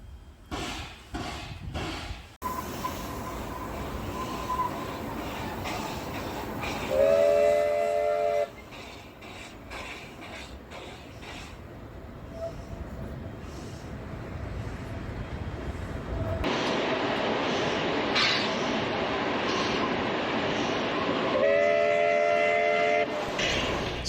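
Tourist train setting off on its run toward Port Augusta, sounding two long horn blasts several seconds apart over a steady rumble that swells as it pulls away, heard from trackside with no talking.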